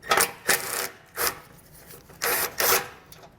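A hand socket wrench working 13 mm and 15 mm nuts loose on a 2022 vehicle during a Roadmaster base plate install, heard as four quick ratcheting bursts spaced irregularly, close and loud.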